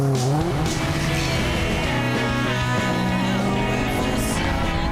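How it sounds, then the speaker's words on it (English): A Citroen R500 and a Rover 25, 230 against 84 brake horsepower, in a 0 to 60 burnout race: loud, continuous engine revving with shifting pitch and squealing tires, sustained throughout without speech. "Now this is going to be one of the most bizarre 0 to 60 burnouts ever. A Citroen R500 and a Rover 25."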